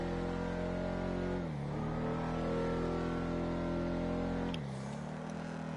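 A Ford Mustang accelerating hard in third gear, engine roaring loud and steady as the pitch climbs, then briefly dips at a shift before rising again, close and continuous.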